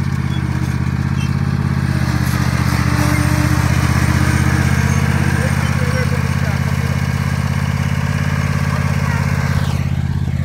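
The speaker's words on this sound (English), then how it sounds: "we're gonna get back to the mowing" Zero-turn lawn mower engine droning steadily while cutting a grassy slope, a loud continuous near drone with clattering texture throughout and no pauses.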